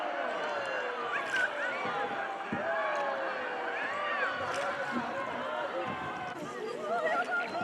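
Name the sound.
people shouting among cliffs in Vietnam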